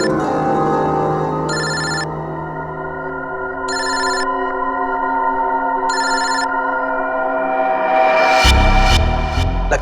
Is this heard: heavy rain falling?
no